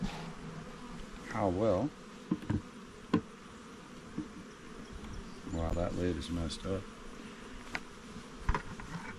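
Honey bees from a very defensive hive drone and whine loudly and close, with agitated buzzing swells rising over a steady hum. A beekeeper talks over it.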